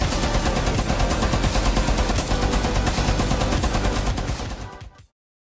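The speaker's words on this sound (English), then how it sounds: "LMG mounted and loaded!" Rapid sustained fire from a mounted LMG in Rainbow Six Siege, loud and dense, a continuous rattling burst running about five seconds before cutting off abruptly into silence.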